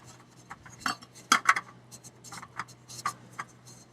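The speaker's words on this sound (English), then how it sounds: "Okay, so then we're going to screw the oil filter in." Oil filter being screwed onto a 2014 Chevrolet Silverado, a series of light metallic clicks and scraping ticks in irregular bursts, close up over a faint steady hum, with no talking.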